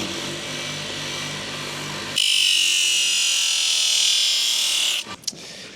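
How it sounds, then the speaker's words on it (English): A grinder works the edges of a horseshoe, a steady mechanical hum that jumps to a loud, bright high-pitched whine partway through, holds for several seconds, then cuts off abruptly with a few clanks. "This grinder's loud."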